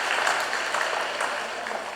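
A church congregation at a Korean Sunday worship service claps together, a loud, continuous patter of many hands lasting about two seconds.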